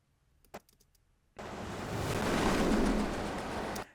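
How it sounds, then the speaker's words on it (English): Surf crashing against a rock, a single sustained wash of water that swells and then cuts off, preceded by a few faint clicks in near silence. "The other sound I want to punctuate is the waves hitting this rock."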